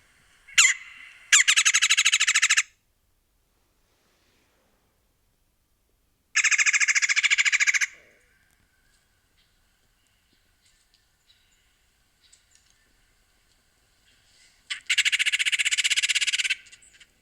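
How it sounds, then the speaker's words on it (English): Three loud, harsh red-bellied woodpecker calls, each a rapid rolling burst lasting one to two seconds, separated by quiet pauses; close and clear. "here's another common red-bellied woodpecker call that you will hear."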